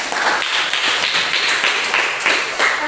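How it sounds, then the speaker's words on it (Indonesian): An audience breaks into close, loud clapping, individual claps audible in an uneven rhythm that carries on without a break. "kita berikan tepuk tangan untuk itu"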